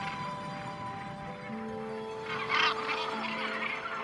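A dense chorus of harsh calls from a gannet colony on the Scottish coast rises and overlaps continuously, with a louder burst of squawking near the middle.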